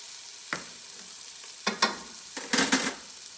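Steak searing in a hot pan, with a steady sizzle and a few sharp bursts of spatter and utensil scrapes that cluster toward the end, loud and close with no voices.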